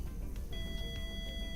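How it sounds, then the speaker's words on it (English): An EMF reader in a ghost-hunting video game gives a thin electronic tone that starts partway through and holds steady, pulsing a few times over a constant low background rumble. "Had a beep on the EMF."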